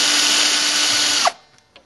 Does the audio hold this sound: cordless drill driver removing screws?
yes